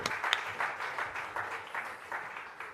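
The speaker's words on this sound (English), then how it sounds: "please give Mr. Taquain another round of applause." Fairly faint applause from the audience at a diaspora conference launch, a soft, uneven patter of many claps heard somewhat distant, with a few stronger bursts near the start.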